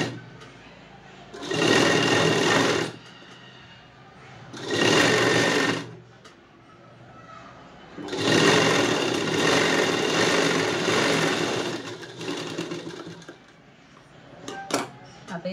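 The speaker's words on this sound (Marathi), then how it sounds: "इथे एक आपल्याला दाब शिलाई मारून घ्यायची आहे अगोदर" A sewing machine stitches a puff sleeve border in three close, rapid whirring bursts separated by pauses, each a fast mechanical chatter, with faint clicks and handling near the end.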